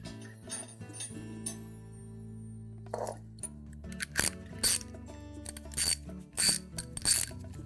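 Small metallic clicks and ratcheting taps as a retaining nut is tightened over a lock washer on a Whirlpool washer tub support assembly, close and fairly quiet, in irregular bursts over a low hum.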